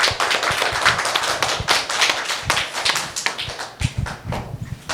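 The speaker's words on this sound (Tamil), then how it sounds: "இன்னொரு முறை கைத்தட்டுங்க." An audience at a Tamil festival in New Jersey breaks into dense, lively applause, many hands clapping close and loud for the whole stretch, with no voices over it.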